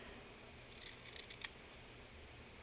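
Scissors make a few soft, close snips, trimming an art doll's skirt decoration, with the last cut slightly sharper, over a faint steady room hiss.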